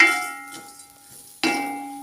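A metal pan clangs twice while lentils and split chickpeas dry-roast, each strike ringing out and decaying slowly, close and fairly loud with no talking.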